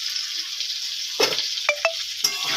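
Chopped onion hits a pan of frying shrimp, giving a steady sizzle with a few sharp metallic clinks and scrapes of a utensil against the pan, close and fairly quiet.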